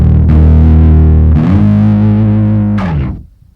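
A bass guitar runs through a pedalboard with an octave-down effect, giving thick, heavily distorted sustained notes that shift pitch twice before cutting off, loud and close with no talk.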